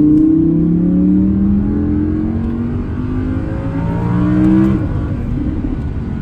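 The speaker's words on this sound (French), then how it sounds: "un moteur V10 atmosphérique, 620 chevaux les amis" A high-revving naturally aspirated 620-horsepower V10 engine in a 2020 Audi R8 roars loudly and continuously, pitch climbing through gear changes as it accelerates hard.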